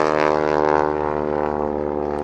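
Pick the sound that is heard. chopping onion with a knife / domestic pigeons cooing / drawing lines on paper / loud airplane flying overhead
loud airplane flying overhead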